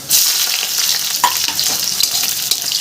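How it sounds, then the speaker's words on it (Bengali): Chopped onion hits a pan of frying potatoes with garlic and black cumin, giving a loud, bright, close sizzle that bursts in at once and keeps hissing steadily, with light stirring scrapes. "সব আমি ভালো করে লাল লাল করে এটাকে ভেজে নেব"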